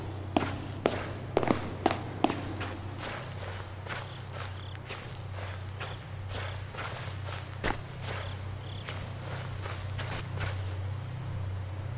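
Walking footsteps in a dark horror video game, a regular series of close, crisp steps over a low humming night ambience with faint repeating insect chirps, the pace easing and thinning out midway. No one speaks.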